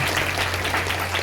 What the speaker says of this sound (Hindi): चल ताली बजा प्रभु